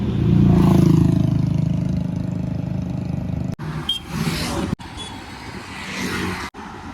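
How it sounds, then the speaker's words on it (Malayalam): Vehicles passing a parked, broken-down truck on a highway, a loud close whoosh of engine and road roar swelling and fading, followed by further rushing passes with brief gaps. "ഹൈവേയിലാണ് നമ്മളിങ്ങനെ കേട്ടോ. വണ്ടികളൊക്കെ പറന്ന് പോകും"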